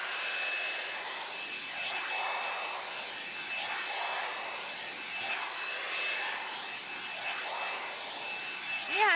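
An electric hair dryer comb runs continuously with a steady, fairly quiet airy whir that swells and eases in slow waves.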